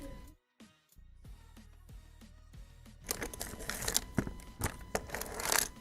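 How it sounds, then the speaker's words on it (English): Rummaging through a messy computer drawer in search of a pen: a few sparse clicks and knocks at first, then a denser, louder stretch of rattling, clattering and crinkling objects being shifted about. "Just looking for a pen in my messy computer drawer."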